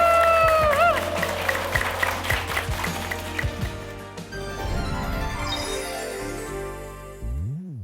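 An audience applauds at the close of a talk concert, clapping rising and fading over music and voices before trailing off near the end.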